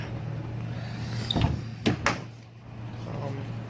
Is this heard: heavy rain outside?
no